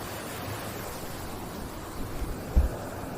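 A river at Sebentul flows with a steady broadband rush like wind-blown water. A few soft low bumps come near the end, and no voices are heard.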